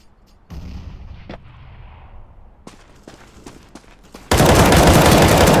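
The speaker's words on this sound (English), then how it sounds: "Throwing a grenade." A grenade blast in a video game, a sudden loud burst that cuts in after a few seconds of quieter gunfire and footsteps, then sustains as a dense roaring wall of noise to the end.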